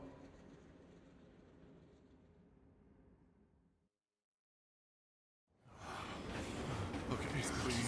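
Train running on rails in Final Fantasy VII Remake, a rumbling rolling drone that fades into a short silence, then returns as a louder, closer rushing roar.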